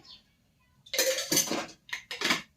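A metal kadai being set down on the stove with oil going in, heard as a few sharp clattering metallic clanks after a quiet moment.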